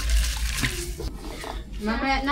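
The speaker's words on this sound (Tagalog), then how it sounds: "Ang una ko pong ilalagay muna ay tubig." Water splashes and pours steadily into a cooking pot close by for kwek kwek sauce, with a voice speaking Filipino over the running liquid.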